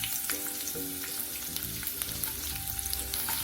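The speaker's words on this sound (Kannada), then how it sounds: "ಬೆಳ್ಳುಳ್ಳಿ ಸ್ವಲ್ಪ ಎಣ್ಣೆಯಲ್ಲಿ ಚೆನ್ನಾಗಿ ಹುರಿಬೇಕು" Chopped garlic fries in oil for a North Karnataka green chilli chutney, giving a steady, close sizzle with the occasional stir of a spoon in the pan.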